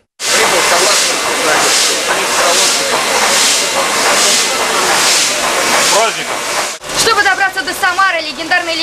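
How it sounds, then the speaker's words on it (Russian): A legendary steam locomotive arriving at Samara railway station hisses loudly with a sustained, rhythmic rush of steam, then breaks off into a brief pause before a voice speaks over lighter background noise. "Спустя годы легендарный паровоз прогудел на Самарском вокзале."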